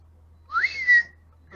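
A person whistles a single short phrase that rises and then holds a steady note, clear and close in a quiet room.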